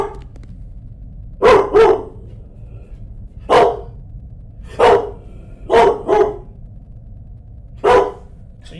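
A dog barks sharply in the room, about seven loud barks in single shots and quick doubles separated by pauses, over a quiet background.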